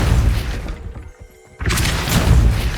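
Depulso spell cast in Hogwarts Legacy: a heavy booming impact with a crashing burst, then a brief muffled lull, then a second loud rushing blast that fills the rest of the moment.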